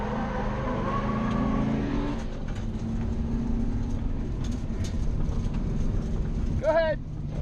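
Ford Mustang drift car engine roaring at high revs, a loud, steady drone with rising pitch toward the end, heard from inside or close by with a voice briefly audible.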